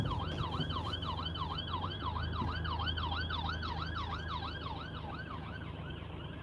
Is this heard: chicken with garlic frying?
no